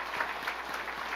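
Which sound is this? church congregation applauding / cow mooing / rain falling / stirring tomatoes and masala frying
church congregation applauding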